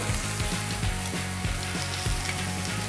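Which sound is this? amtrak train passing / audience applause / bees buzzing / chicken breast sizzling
chicken breast sizzling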